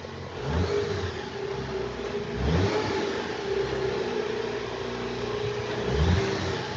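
A Jeep truck's engine revs repeatedly, a mid-pitched motor rising in a few surges over a steady running drone, close and fairly loud, with no talking.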